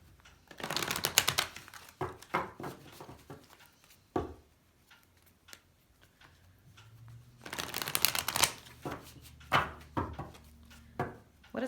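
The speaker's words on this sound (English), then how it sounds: "I'm going to pull a couple oracle cards from Doreen Virtue's Love deck." Doreen Virtue Love deck oracle cards are shuffled in close, riffling bursts of crisp papery flicks, with a quieter pause of scattered taps in the middle before another dense burst.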